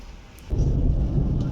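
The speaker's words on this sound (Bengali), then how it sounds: "তো বৃষ্টি হচ্ছে" Rain falling outdoors: a sudden dense, low rushing roar starting partway in and continuing steadily, fairly loud, like a heavy downpour with a rumbling edge, no voices.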